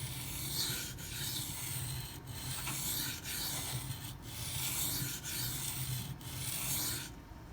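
Repeated sharpening passes along the blade of an Emerson A100 knife being reground, a steady, quiet abrasive rubbing broken into regular strokes about once a second, close and without speech.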